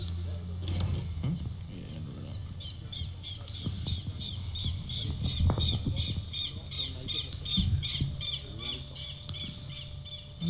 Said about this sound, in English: And the birds are back out, Mr. Rooks.